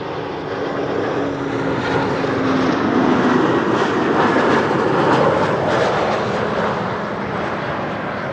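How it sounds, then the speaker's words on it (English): A BA CityFlyer airliner arriving from London City produces a steady, loud, broadband jet roar that swells slightly mid-way and holds throughout, heard from a distance at an airport. "This is BA City Flyer arriving from London City."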